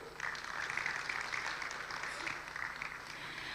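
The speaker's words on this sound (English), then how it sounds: "Please give a big round of applause." Audience clapping at a conference, a steady dense patter of applause from a crowd in a hall, moderately distant and fairly quiet.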